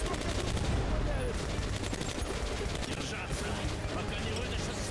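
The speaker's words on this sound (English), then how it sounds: "Suppressive fire" Gunfire from the video game Metro Last Light rattles in rapid, repeated automatic bursts, loud and dense throughout, with a thick, noisy backdrop of in-game sound.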